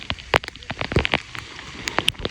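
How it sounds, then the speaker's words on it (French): Light rain and small hailstones patter and tick on a surface close by, scattered irregular taps over a soft hiss. "c'est des genres de tout petits grêlons qui tombent, la pluie fine"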